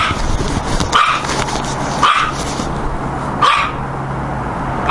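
A small dog barks three times outdoors in snow, each bark sharp and separated by about a second, heard close over a constant gusty wind roar.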